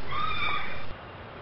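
A horse whinnies in one clear, high, quavering neigh lasting under a second, fairly close, followed by quieter outdoor background noise.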